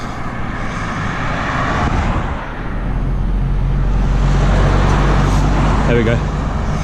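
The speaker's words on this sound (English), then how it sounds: "Let's wait for this car to go past." A car passes along a rural road near Stymphalia in Greece, a steady broad rush of tyres and engine swelling slightly and fading, heard from roadside beside a cyclist amid wind.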